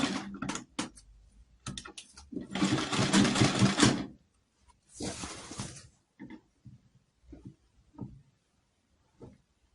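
A sewing machine stitches a pleat seam on a contoured blouse in several short bursts, from a longer steady run to brief stop-start pulses. It sounds close, with no speech.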